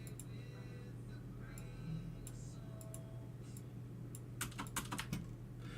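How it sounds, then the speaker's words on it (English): Computer keyboard clicks picked up on a microphone patter faintly over a steady low hum, growing into a denser cluster of sharper taps near the end. "cut off some of the keyboard clicks that came through on the mic"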